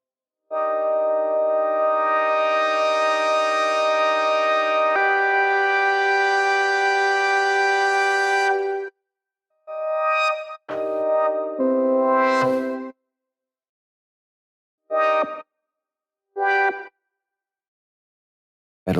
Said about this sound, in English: You can hear that filter really coming in and out.